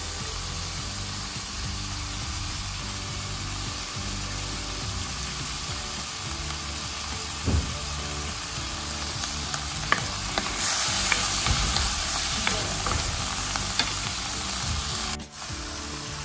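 Onions and steak sizzle in hot oil for pancit, a steady close frying hiss with occasional stirring scrapes and small pops, growing a little louder partway through, no talk heard.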